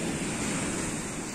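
Gentle sea waves wash onto a beach in a steady, soft rush of surf, mixed with light wind noise against the microphone.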